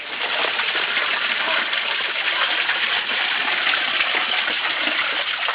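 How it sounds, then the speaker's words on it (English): A clear stream of water flowing steadily, a continuous close rushing hiss with no pauses or other sounds. "looks like our survival expert has found a nice, clear, refreshing stream of water"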